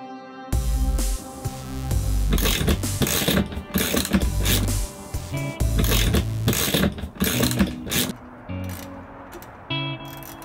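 A hand ratchet cranks while tightening a Tuff Stuff Elite roof top tent mount, loud close clicking in quick bursts separated by brief pauses, with a metallic mechanical rattle.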